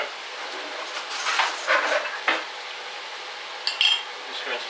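Sausages sizzle in a metal cooking pan while a utensil stirs them, giving a soft continuous fry broken by a few distinct scrapes and clinks of metal on the pan.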